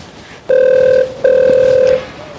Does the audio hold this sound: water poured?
no